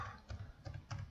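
Keys clack on a computer keyboard in three quick bursts of typing, close and fairly quiet, with no voices over them.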